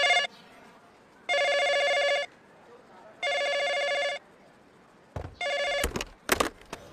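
A telephone bell rings in three evenly spaced bursts, loud and close, then a fourth ring is cut short by brief knocks and rustling near the end.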